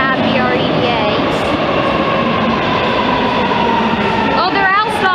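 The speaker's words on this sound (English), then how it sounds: "there's a Shady Grove train coming" A Metro train of Alstom rail cars rolls into a station on the Shady Grove line, a loud close rumble with rising and falling wheel squeals and whines over a steady roar, a voice speaking faintly beneath.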